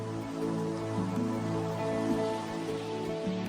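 Steady rain falling in a tropical rainforest, a dense, even patter of drops on leaves and surfaces, continuous and moderately close with no voices.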